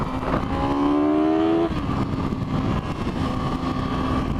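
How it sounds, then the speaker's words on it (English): A 2010 Yamaha R6 inline 600 motorcycle engine revs high and loud, a rising whine climbing steeply then dropping off into a steady, close engine drone. "You forget how high they rev."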